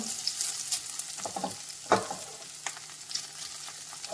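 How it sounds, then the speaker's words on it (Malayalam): Grated coconut scrapes and sizzles in a hot pan as it is stirred, with irregular spatula scrapes over a soft frying hiss. "നാളികേരം വറുത്തെടുക്കുമ്പോൾ നല്ലപോലെ വറുത്തെടുക്കണം"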